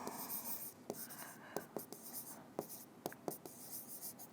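A hand writes Tamil words during a grammar lesson, giving sharp scratching strokes and taps at an irregular pace, close and moderately loud.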